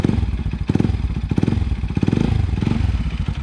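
A Bajaj NS200 motorcycle fitted with an Akrapovic titanium exhaust, idling and blipping up close with a loud, rapid, rumbling exhaust pulse that swells in short revs.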